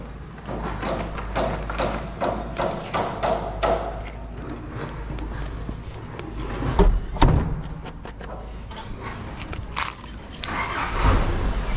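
House keys jangle repeatedly at a house turnover in Cabuyao, metallic rattles mixed with car door thuds and vehicle noise nearby, fairly loud and irregular.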